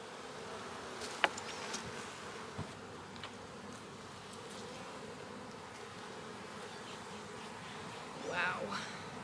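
Honeybees buzz around a beehive, a steady low drone of many wings with an individual bee passing close near the end, under faint background noise.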